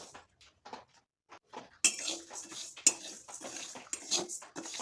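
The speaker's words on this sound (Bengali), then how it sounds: "প্রথমে শুকনো খোলায় ডালটাকে ভেজে নিচ্ছি" Lentils dry-roasting in an oil-free pan over a medium flame, with a utensil scraping and clinking against the pan in irregular bursts, quiet at first and then louder and busier.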